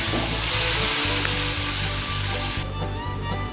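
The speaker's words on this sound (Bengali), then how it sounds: "এর মধ্যে আমি সয়া সস আর ভিনিগার দিয়ে দিয়েছি, দিয়ে ভালো করে ভেজে নিচ্ছি।" Chowmein noodles frying in a hot pan with soy sauce and vinegar, giving a loud, steady sizzle with rhythmic low stirring thumps underneath and no voices.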